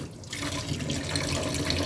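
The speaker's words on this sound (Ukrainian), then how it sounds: "Відрізала кусок колагенової плівки, набираю в неї воду," Tap water running into a piece of collagen sausage casing in a kitchen, a steady close gush with a faint trickle and no talking.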